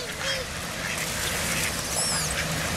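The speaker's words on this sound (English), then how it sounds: "look at all the ducks where they're going. They're following us." A group of ducks quacking outdoors as they follow people, a few honking calls standing out above a steady background of wind and ambient noise.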